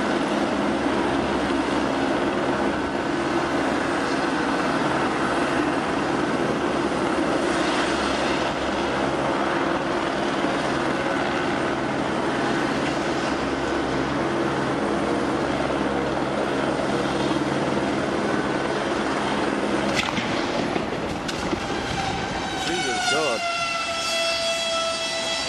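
A helicopter's rotor and engine run steadily and loudly, with a constant droning whine and thrumming blades for most of the stretch before an abrupt shift near the end as the craft hits a steel cable and crashes down.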